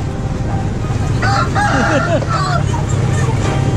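A fighting rooster crows once at a market during a Hmong New Year festival, a loud close crow rising over a dense bed of crowd noise.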